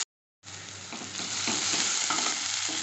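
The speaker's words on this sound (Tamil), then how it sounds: "ஒரு 2 மினிட்ஸ் நல்லா ஃப்ரை பண்ணிக்கலாம்." Ginger garlic paste frying with onions for brinjal biryani starts after a short silence, then rises into a steady close sizzle with soft stirring scrapes underneath, building slightly louder toward the end.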